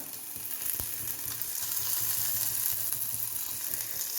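Garlic and ginger sizzle steadily in hot oil, with curry leaves going in for a dal and tomato curry. The frying hiss stays loud and even throughout, with a faint clunk early on and no talk.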